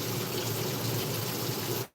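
Hot water runs steadily from a tap during a test of laundry detergent sheets, a constant close hiss that cuts off abruptly at the end.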